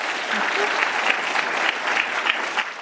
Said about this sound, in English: can I get another round of applause for Rachel?